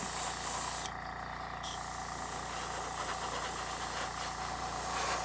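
An airbrush sprays finish at low air pressure onto a Trumpeter 1/32 P-38 model, a steady close hiss over a low compressor hum, briefly cutting out for under a second before resuming.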